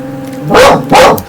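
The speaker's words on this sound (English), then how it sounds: "Max is barking at the neighbors" A dog barks twice in quick succession at the neighbors indoors, loud and close, with a brief pause between the two sharp barks.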